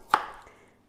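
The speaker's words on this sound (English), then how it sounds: "All you're doing is just chopping it up," A kitchen knife cuts through broccoli florets with one sharp, close thud on the board that fades quickly, with no other sound.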